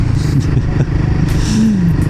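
Kawasaki Versys 300 twin-cylinder adventure motorcycle running close by at a crowded biking festival, a loud steady low engine rumble with clattering and a brief rising rev.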